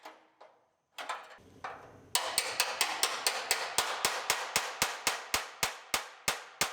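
Sharp metallic chisel strikes ring out while clips are knocked loose on a 2019 GMC Sierra Denali 2500HD truck roof, a few scattered hits at first and then a steady rapid series of evenly spaced blows.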